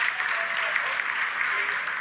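Applause in the ISRO control room during the Chandrayaan 3 landing, a steady wash of clapping from many people, heard at a slight distance and slightly muffled, with a voice faintly underneath.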